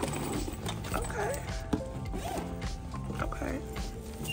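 Zippers on a suitcase being pulled open, repeated short rasping zips with clicking of pulls and handling noise, close and fairly loud, with a voice speaking in the background.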